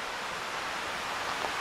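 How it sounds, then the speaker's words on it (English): Steady rushing roar of Brush Creek's waterfall beneath the short Packsaddle covered bridge in Somerset County, Pennsylvania, a dense continuous wash of water with no speech over it. "Like I said, there's a waterfall underneath here"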